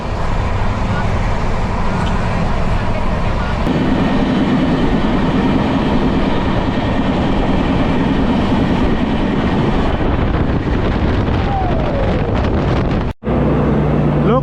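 AP Express train hauled by a WDG4 diesel locomotive running at 130 km/h between Duvvada and Anakapalle, with a loud continuous roar of wheels and rushing wind plus faint rhythmic rail clatter, briefly cut near the end.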